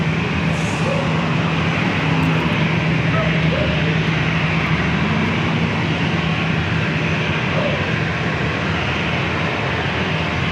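An airliner takes off from runway 27 at San Diego airport, a loud continuous jet engine roar filling the whole span, with radio-style voices faintly mixed in.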